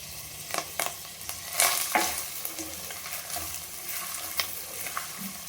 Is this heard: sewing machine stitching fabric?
no